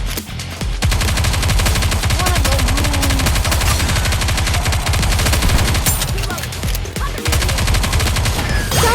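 Rapid automatic gunfire in the shooter game Goddess of Victory: Nikke, loud, dense and continuous with a short break near the start, under occasional game voice lines.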